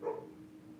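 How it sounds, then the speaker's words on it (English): A neighbor's dog gives a single brief, muffled bark that fades quickly, heard faintly at a distance against low background noise. "Oh, the neighbor's dog is completely insane"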